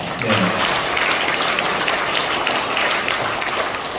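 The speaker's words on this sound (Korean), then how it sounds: "함께 해주신 우리 박한나 회장님, 양재학 회장님 두 분께 다시 한번 박수 부탁드립니다" Applause from a large crowd filling a big auditorium hall at a political rally in Busan, a continuous dense roar of clapping with no talk over it.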